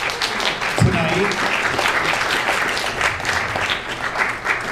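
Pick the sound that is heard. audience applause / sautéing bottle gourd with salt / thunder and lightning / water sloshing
audience applause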